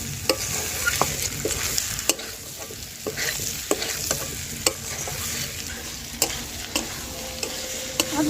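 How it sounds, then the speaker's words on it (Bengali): Snail (gugli) curry masala being stir-fried in a pan, with a steady sizzle and irregular scraping clacks of the spatula about every half second, close and continuous with no talking. "আরো 2 মিনিট কষিয়ে নেবো"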